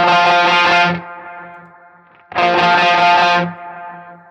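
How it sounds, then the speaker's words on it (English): An electric guitar played through a Line 6 Helix sounds two distorted chords, each ringing out and fading with a trailing delay tail between them, clean and close with no talk. "So a lot of delay going on too, without the pitch though."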